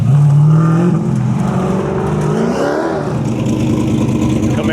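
A blacked-out Chevrolet Camaro with a carbon fiber nose and hood drives at a Goodguys car show in Raleigh. Its engine rumbles loud and close, swelling in a brief rev midway.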